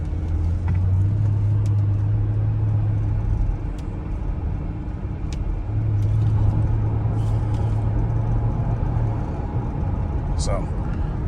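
A 2004 Mercedes fitted with a Neomax coilover conversion drives along local roads, giving a steady low cabin rumble with a droning engine tone that rises and falls, and someone talks over it.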